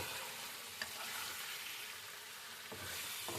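Chicken frying with ginger, garlic and onion in a pan, a quiet, steady sizzling hiss with a couple of faint stirring taps.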